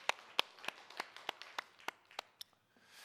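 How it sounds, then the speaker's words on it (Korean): Hand claps at a Korean church prayer meeting, about ten sharp separate claps spaced unevenly, fairly faint and without talk. "우리 뜨겁게 축복하고 박수합니다."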